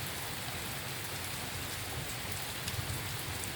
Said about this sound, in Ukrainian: гроза це для землі добре, тому що дощ іде